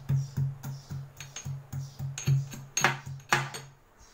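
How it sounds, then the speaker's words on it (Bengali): Fresh ginger is crushed by hand for masala aloo puri, a steady series of about a dozen dull knocks roughly every third of a second, close and moderately loud, with a few sharper hits near the end. "এই আদাগুলো আমি এখন একটু থেতো করে নেব"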